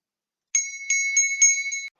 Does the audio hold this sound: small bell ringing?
yes